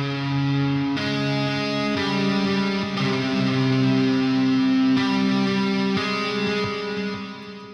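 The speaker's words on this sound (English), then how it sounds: "I added some amp simulation with STL Tone Hub, and then some tape saturation with this SPL Twin Tube, and then some reverb" Sustained distorted electric guitar chords run through STL Tone Hub amp simulation, SPL Twin Tube tape saturation and reverb, with chord changes about once per second, loud and thick, then a decaying tail at the end.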